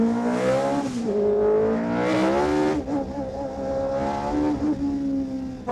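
A classic racing car from a museum, driven by Mario Andretti, is pushed hard on the throttle, its engine revving loudly in rising and falling sweeps close by, with no talk.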